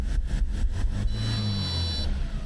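A 1980s-era Audi 80 petrol engine that sat unused for 19 years revs up from idle in a cold start, a steady mid-pitched engine roar rising and holding loud and close, with no talking.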